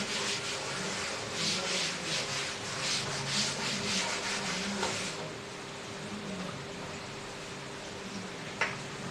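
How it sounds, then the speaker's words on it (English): Writing is rubbed off a classroom board with steady back-and-forth scrubbing strokes that sound close and fairly soft, then stop, leaving quiet room tone and one small knock. "I am rubbing this one."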